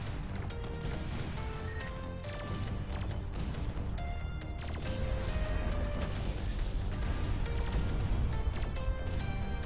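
Gunshots in the video game Battlestorm as the trigger is pulled repeatedly, sharp cracks and bursts over a busy game soundtrack with musical tones.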